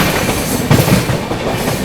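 Arunachal AC Superfast Express train running over rail tracks near Ghaziabad junction, a loud steady rumble with rhythmic clickety-clack of wheels on rail joints throughout, heard from on board.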